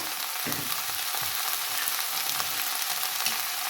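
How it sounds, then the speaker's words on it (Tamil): White pumpkin curry stirred and frying in a pan, a steady close sizzle with a few soft scraping stirs breaking through, and no voices. "இப்போ சேர்த்துட்டு ஒருக்கா கலந்து விட்டு கொள்ளுவோம்"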